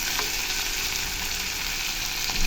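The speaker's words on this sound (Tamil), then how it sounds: "நல்லா ஃப்ரை பண்ணிடுங்க." Chopped onion and tomato fry in hot oil for a tomato idiyappam dish, a steady close sizzle with faint stirring, no talk.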